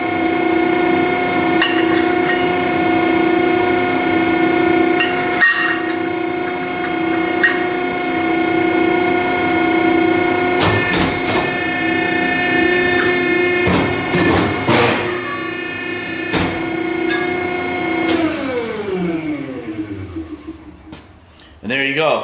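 A Piranha ironworker machine bending steel in a shop, with a steady loud hydraulic motor hum and whine, a few clanks and knocks along the way, and the pitch winding down near the end.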